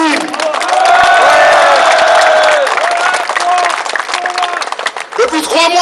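Crowd at a political rally breaking into loud, sustained applause with some cheering, filling the whole stretch and tapering slightly near the end.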